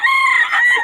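A young gamecock stag rooster gives a loud, close crow, one short, high, strained call lasting under a second.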